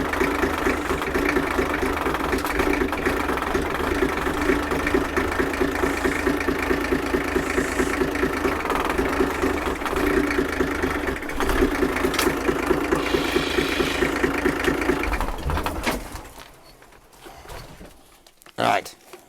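An old Dodge truck, abandoned for 28 years in a French wood, idles with a rough, steady mid-low engine rumble and slight knock while being put into reverse, then cuts off abruptly near the end, with talking over it.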